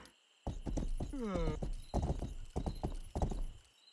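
Horse hooves clip-clop in a steady rhythm inside a video game, loud and close, with a whinny rising partway through and a player's voice talking over it.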